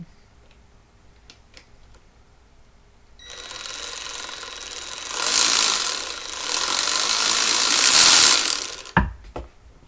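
After a quiet start, a Ryobi 3/8 electric auto ratchet whirs and buzzes for several seconds loosening a 7/16 fastener, rising in intensity, then stops with a couple of sharp clicks.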